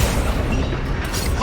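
A Confringo fire blast spell explodes in Hogwarts Legacy, a heavy, dense rumbling boom that stays loud and thick throughout, with a faint crackle near the end.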